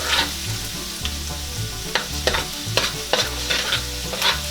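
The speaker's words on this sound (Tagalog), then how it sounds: "Ngayon pong mainit na ay pwede na po nating ilagay ang ating garlic." Garlic fries in hot cooking oil with a continuous sizzle close by, broken by repeated scraping strokes as it is stirred. The strokes come roughly every half second to second.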